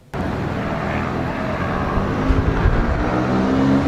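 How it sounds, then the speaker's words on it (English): A steady, broad helicopter engine roar builds and grows louder over several seconds as it passes low overhead. No voices. "Those are helicopters."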